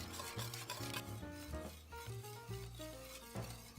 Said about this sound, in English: Make sure to whisk each egg in fast.